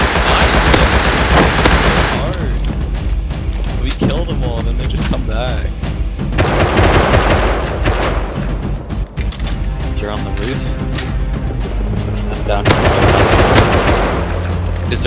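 Rapid automatic gunfire from an old gun in the video game Rust, loud and sustained with sharp repeated bursts across the whole stretch, with a player talking over it.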